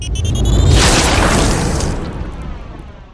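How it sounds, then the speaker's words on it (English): A flashbang grenade goes off in Tales from the Borderlands, a loud deep boom with a bright crackling burst that rolls out and fades over about three seconds, with no talk. "I thought it was a flashbang grenade."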